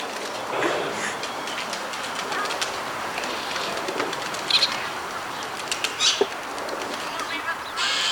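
Birds chasing after food flap their wings in brief bursts over a steady outdoor background hum, with a few sharper flutters standing out near the end.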